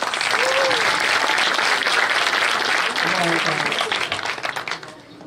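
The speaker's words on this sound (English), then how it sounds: "give them a huge round of applause." An audience at a conference panel gives a huge round of applause, loud steady clapping that fades near the end, with a voice faintly over it.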